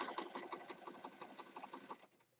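Sewing machine stitching down the top of a junk journal cover, a quick rapid run of needle strokes at even rhythm, faint and close, then stopping abruptly near the end.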